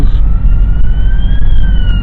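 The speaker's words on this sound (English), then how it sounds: "Ambulance." An ambulance siren wails steadily over heavy low rumbling traffic noise, fairly loud and nearby, with a faint slow pitch rise.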